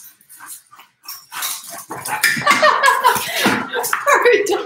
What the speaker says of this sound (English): Our dog just escaped the house.